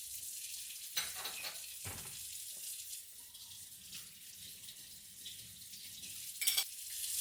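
Espresso portafilter rinsed under a running sink tap, a steady close hiss of flowing water with a few knocks and splashes as the basket is handled, fairly quiet overall.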